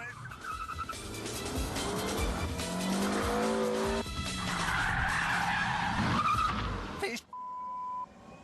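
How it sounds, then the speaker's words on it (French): A Renault Twingo RS engine revs loudly as tires screech and skid through a handbrake turn, then the sound cuts off abruptly into near silence. "Frein à main."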